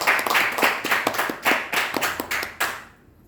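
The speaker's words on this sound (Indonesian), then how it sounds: "Berikan aplaus dulu." A small indoor audience claps in a short, uneven burst of applause at a training session, close by, with the clapping thinning out and stopping after about three seconds.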